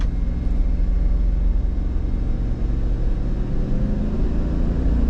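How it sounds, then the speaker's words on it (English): A 2003 Chevy Suburban with a faulty transmission missing second and fourth gear drives along, its engine a steady low rumble heard from inside the cabin with no clear break for the shift. "Shifting from first to third."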